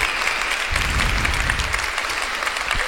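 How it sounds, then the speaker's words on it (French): An audience in a church catechism gathering claps together, a steady, dense wash of applause filling the whole stretch at close range with no voices over it. "Eh ben, on va les applaudir."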